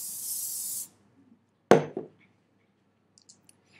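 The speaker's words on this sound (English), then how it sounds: "just spray the area with a little bit of hairspray." Hairspray hisses from a can onto a styled vintage wave hairstyle in one short, bright burst, followed by quiet and a couple of faint clicks and handling sounds.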